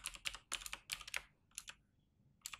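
Quick, close typing on a computer keyboard while writing code, clustered bursts of crisp key clicks separated by short pauses, quiet and with no voice.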